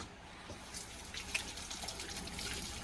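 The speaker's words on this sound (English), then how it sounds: "Let me wash my hands real quick." Tap water runs steadily as hands are washed at a kitchen sink while making goat cheese with vinegar, a soft continuous trickle and splash with small bursts, fairly quiet and with no talking.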